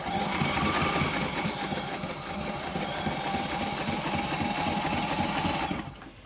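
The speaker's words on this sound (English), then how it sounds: "I'm being more concerned about sewing to the edge of the vinyl than I am to the stitch" Sewing machine stitching vinyl for a boat's full enclosure, a steady close whirring run of rapid stitches that continues for about six seconds and then stops.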